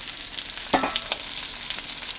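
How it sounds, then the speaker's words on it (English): Sweet mini peppers frying in a pan for Punjabi chicken, a continuous close sizzle with a couple of brief stirring scrapes. "into here we would add the sweet peppers, or the mini peppers, into here."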